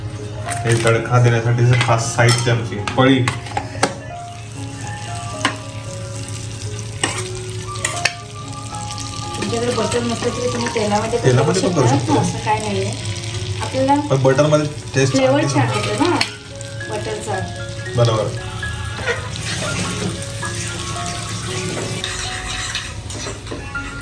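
Paneer and spinach frying in butter with oil sizzle steadily throughout, joined by scraping stirs and occasional utensil clinks while voices talk over the cooking.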